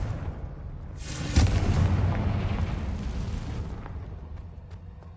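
A Confringo fire spell bursting in Hogwarts Legacy, a single loud booming explosion with a rumbling, crackling tail that fades over several seconds.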